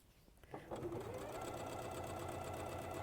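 Sewing machine stitching a quilt starts up after a brief quiet moment, then runs at a fast steady whir with a rapid needle rhythm, close and continuous.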